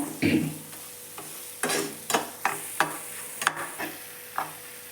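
Spiced methi (fenugreek leaf) curry paste fries in oil in a pan, giving a soft sizzle broken by several sharp scraping stirs of a spoon at irregular intervals, fairly close and alone.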